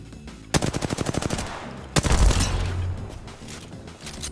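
Automatic weapon fire in Apex Legends during a solo Diamond ranked match: a fast burst of about a dozen evenly spaced shots, a brief pause, then a heavier blast with a booming low rumble that fades out.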